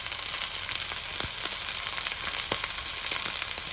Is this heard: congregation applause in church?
no